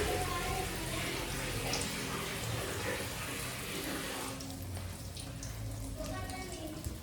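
Water runs steadily from a tap into a bucket, a continuous splashing rush that holds fairly even throughout, close by with no talking.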